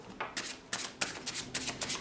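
Tarot cards being shuffled, a series of crisp riffling swishes in quick, uneven bursts, close and moderately loud with no talking.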